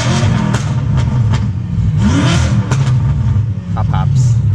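A BMW M3 CS revs close and loud, its exhaust letting out several sharp pops and crackles between throttle blips, while people talk over the engine.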